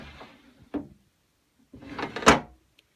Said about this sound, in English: So this is actually how the door operates.